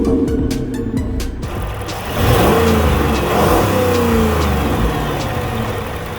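Chrysler 300C with the 5.7 liter V8 Hemi revving, a steady deep engine drone that swells louder after a couple of seconds and holds, heard close with no talk.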